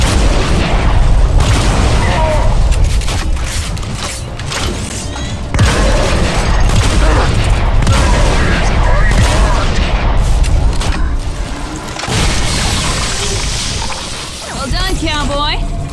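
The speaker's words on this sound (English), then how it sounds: "Shoot through that armor!" Gunfire in the shooter game Bulletstorm: dense, loud volleys of shots and booming blasts roll on almost continuously, with brief dips, and game voices cut in near the end.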